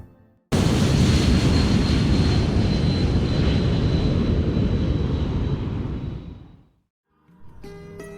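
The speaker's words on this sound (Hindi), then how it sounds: "अभियांत्रिकी का सम्राट मैं हवाई जहाज हूँ" Airplane flying past in a stage skit sound effect: a loud, broad engine roar with a steady high whine swells in abruptly, holds for about six seconds, then fades out, followed by faint background noise.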